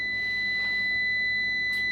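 A multimeter continuity buzzer sounds during a ground connection test: a steady, unbroken electronic tone that holds through the whole two seconds against a quiet background.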